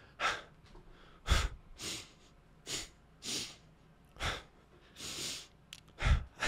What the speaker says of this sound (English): The breathing is crazy.